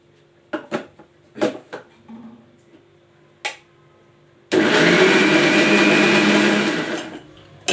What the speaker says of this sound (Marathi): आता मी इथे मिक्सरमध्ये ग्राइंड करून घेते